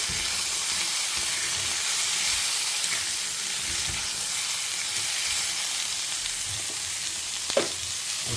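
Radish is sautéing in a pan: a steady, even sizzle and hiss runs throughout, with a faint clink from the pan near the end.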